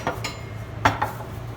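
A pizza pan picked up and set down on a kitchen counter, making a few soft metallic knocks and a faint clink, close and brief with no talk.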